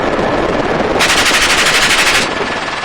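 An M249 SAW machine gun fires from a helicopter gunship at targets, a loud sustained burst of rapid automatic fire lasting over a second amid constant rotor and engine roar.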